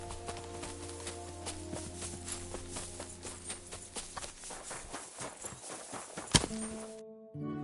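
Rhythmic clip-clop of horse hooves in a medieval video game over a steady musical backdrop, walking at an even pace before the sound cuts out abruptly near the end.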